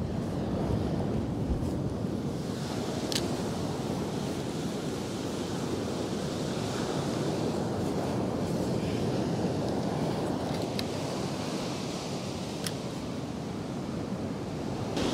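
Sea waves washing up on a shore make a continuous loud surf roar, broken by occasional sharper splashes, with wind buffeting the microphone throughout.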